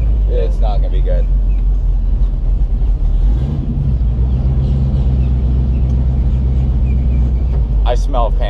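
A Chevrolet Camaro's engine rumbles steadily at a car show, a deep loud idle with a slight dip midway, heard under a person talking.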